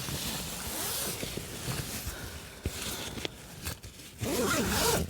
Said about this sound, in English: Zip that bug net up so it's not touching my face.